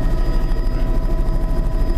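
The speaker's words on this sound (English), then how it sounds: "Oh, that's their float plane." A float plane passes nearby with a loud, steady propeller-engine drone that throbs slightly as it goes by, with no voices over it.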